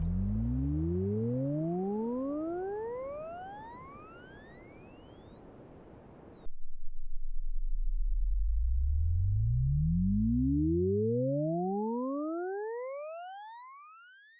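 Synthesized sine waves made with JSFX in Bitwig sweep upward in pitch as stacked pure tones over a hiss of noise, then cut to a low hum before another set of rising tones glides up and fades.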